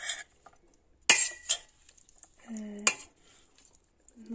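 Black-eyed pea salad tossed with its dressing in a bowl, giving a few soft clinks and scrapes of utensils against dishware, spaced irregularly and fairly close, with quiet gaps between.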